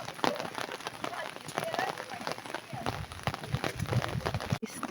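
Steady rain pattering down near a pool in Germany, a dense, continuous hiss of drops striking a hard surface nearby, fairly loud throughout.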